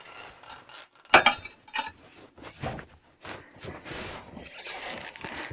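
Glazed pottery clinks and knocks as pieces are lifted from a kiln, with a few bright ceramic taps and scattered handling clatter nearby, moderately loud.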